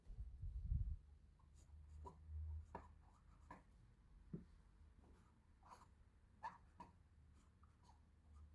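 A broad-nibbed fountain pen with an ebonite feed scratches across paper in short, soft strokes and loops, close and faint, with quiet breathing and handling noises in a still room.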